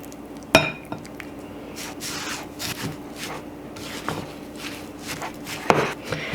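A warm caramel coconut mixture for gluten-free cookie bars is stirred in a bowl, with soft scraping broken by sharp clinks of a utensil against the bowl at irregular intervals, no talking.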